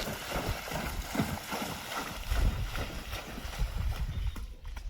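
Hoofbeats of a horse trotting toward a jump during an obstacle training session, a steady rhythmic clip-clop with wind noise and ambient rustle, fairly close and continuous.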